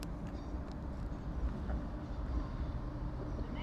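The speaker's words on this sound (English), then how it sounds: "Over now is your delayed 1424 Northern train service from Sheffield through to Scarborough" A Northern passenger train passes through Doncaster station on the East Coast Main Line, a steady near rumble with low wheel-on-rail roar and faint higher squeals throughout, no voices.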